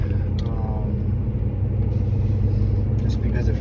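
A car on the road gives off a steady, loud low rumble of engine and tyre noise that holds even throughout, with someone talking over it.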